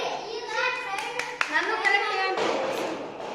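Schoolchildren in an Indian classroom clapping together for a classmate, a short burst of hand claps mixed with children's voices and chatter.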